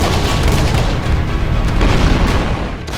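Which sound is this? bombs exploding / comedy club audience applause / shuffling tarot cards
bombs exploding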